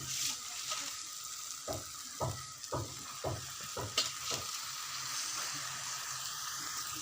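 Malabar spinach stirred and fried in a wok for a dried-fish dish, a steady close sizzle punctuated by a run of rhythmic scraping stir strokes in the middle, with no talk.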